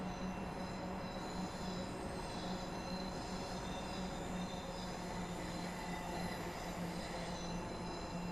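Train rolling into London Paddington station in Train Sim World 6 on the Great Western Express route, a steady loud rumble of wheels and running gear with a sustained low hum and faint squeal throughout, no voices.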